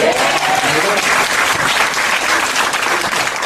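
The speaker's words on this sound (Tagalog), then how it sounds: "Pumapalakpak na ako." Steady, dense applause from a seminar audience in a hall, many hands clapping loudly and evenly throughout with no pauses.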